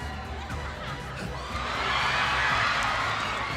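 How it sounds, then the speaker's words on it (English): An arena crowd at the M5 World Championship knockout stage cheers and whoops, with the roar swelling louder midway and holding as a broad, sustained wash of voices. "The crowd loves it."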